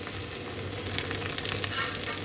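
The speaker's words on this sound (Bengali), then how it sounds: "পেঁয়াজ যখন একটু ভাজা হলো তখন এটা মরিচ দিয়ে দিলাম এখন ভেজে নিই" Steady oily sizzling of onion and green chilies frying in a pan, continuous and close, with a low hum underneath and no talking.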